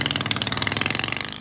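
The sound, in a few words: engine of a stretched limousine motorcycle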